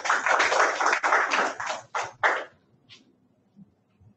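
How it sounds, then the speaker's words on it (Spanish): An audience gives a speaker a brief round of clapping at a scientific talk, close and crisp at first, then thinning into a few separate claps before fading to quiet. "La recibimos con fuertes palmas, por favor."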